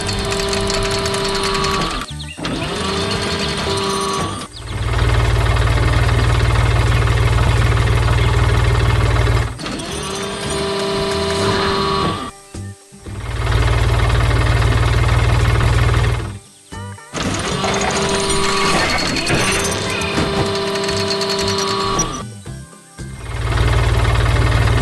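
A heavy blue tractor engine with a loader runs steadily and loudly, its low rumble swelling and dropping in several surges as the machine works, with brief cutoffs between bursts, in an animation.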